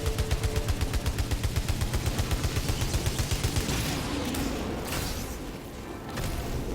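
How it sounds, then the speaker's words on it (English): Carbine assault rifle firing in the video game Returnal, a rapid automatic burst of regular, punchy shots for about four seconds, then rumbling explosive game sound. "And that's the carbine. That's like an assault rifle."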